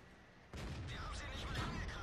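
A tank gun shot in World of Tanks, a sudden heavy blast halfway through followed by a rumbling, rattling aftermath that stays loud to the end, preceded by quieter engine noise.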